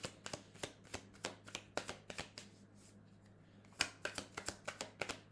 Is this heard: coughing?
no